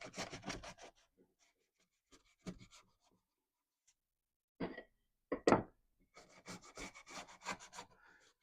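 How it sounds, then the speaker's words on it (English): A hand rubs sandpaper over a piece of salvaged old deck redwood in short bursts of scratchy strokes, separated by quiet pauses, close and fairly clear with no voices. "I'll redo this one since I didn't get in there very well with just my hand on the sandpaper."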